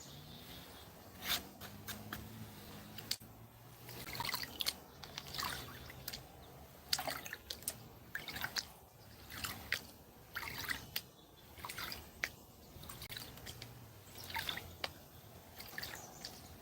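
Water sloshes and drips in a gold pan during panning, with gravel and picker nuggets rattling in the bottom; faint irregular trickling and small clinks come close, with no talk.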